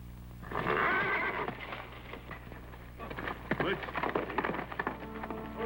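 A horse whinnies loudly near the start, followed by scuffling and clattering sounds with faint voices in the background.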